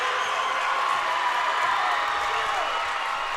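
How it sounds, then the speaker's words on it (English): A crowd cheers and claps at a high school girls' basketball semifinal in a gym, a loud continuous roar of voices and applause filling the space, with an announcer speaking over it. "And you can hear the crowd reaction"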